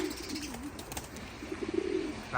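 Racing pigeons, young birds kept for the Young Bird Nationals, coo softly in a loft with faint chirps. The quiet warbling coos rise and fall throughout, and a fluttery burst comes near the end.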